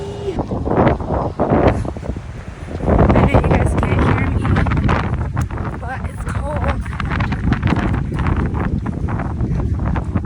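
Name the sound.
wind blowing into the microphone outdoors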